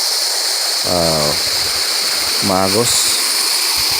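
A river flows with a steady, broad rushing wash, close and loud throughout. Someone speaks briefly twice over it.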